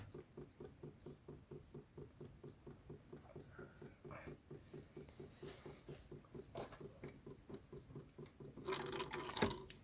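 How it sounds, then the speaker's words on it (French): Brake fluid drips from an open bleeder during a brake fluid change, a fast steady run of faint, evenly spaced droplets falling close by, with a brief rustle midway and a louder clatter at the end. "On va le laisser s'égoutter comme ça parce que j'ai pas le choix."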